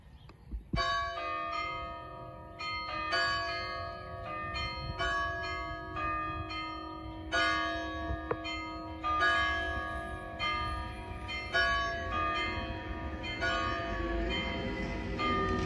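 Church bells at St. Ann church in Kosciusko, Texas, ringing in a repeated, overlapping peal of clear, sustained tones, fairly near and loud, continuing throughout without voices.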